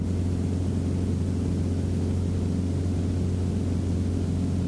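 Continuous droning engine hum with a steady low rumble and broadband noise, heard from inside the cabin of a light aircraft in flight.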